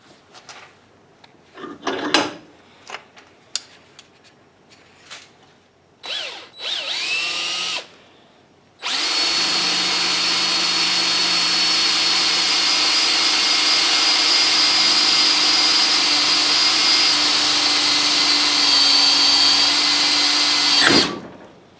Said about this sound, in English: put it in the vise and then drill some holes, or drill a hole.